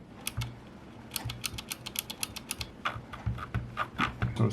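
Typing on a Rampage Ardor esports gaming keyboard, a steady run of close, crisp key clicks with uneven rhythm that grows busier and louder toward the end, heard alone.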